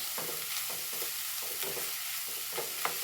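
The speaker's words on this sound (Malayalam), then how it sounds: "രണ്ട് പച്ചമുളക് ഇട്ട് കൊടുക്കുന്നുണ്ട് പിന്നെ ഒരു ഒരു മൂന്നാല് കരിവേപ്പില കേട്ടോ അതും ഇട്ട് കൊടുത്തിട്ട് ഒന്ന് ഇളക്കുന്നുണ്ട്" Green chillies and a few curry leaves stirred in a hot frying pan, a steady soft sizzle with a scraping stir recurring every half second or so, close and alone without talk.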